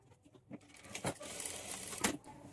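A sewing machine stitches darts on a blouse in short, quiet bursts with a couple of sharper clicks, the motor hum low and steady between them.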